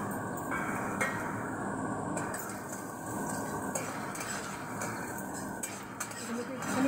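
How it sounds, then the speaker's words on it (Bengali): Chopped ginger, garlic and dried chilli fry for gobi manchurian while a utensil clinks and scrapes against the pan, giving a soft sizzle under irregular metallic knocks. "এবার এগুলোকে একটুখানি ভেজে নেব"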